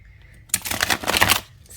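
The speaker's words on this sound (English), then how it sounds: "let's give it a good shuffle." A Shadowscapes tarot deck with hand-colored silver edges is riffle-shuffled up close, a quick burst of fluttering card slaps lasting about a second amid quiet surroundings.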